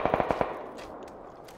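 Automatic gunfire in a shooter video game, a rapid burst of about five shots at the start that then trails into echoing reverberation and faint distant noise.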